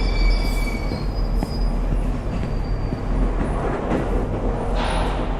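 A train rumbles past steadily in the horror video game The Ghost Train, its wheels squealing and rattling loudly, with a continuous low roar and metallic screeches throughout.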